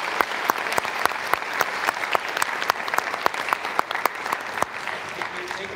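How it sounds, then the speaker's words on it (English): A crowd applauds panelists after a gun policy discussion, a steady patter of many hands with sharp individual claps standing out, moderately loud and continuous throughout, with faint murmuring beneath. "So if you give a round of applause for all our panelists."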